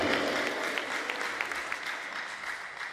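At an 80th birthday celebration, a crowd applauds steadily, moderately close, with scattered individual claps standing out and a faint voice underneath.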